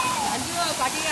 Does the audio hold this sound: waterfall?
yes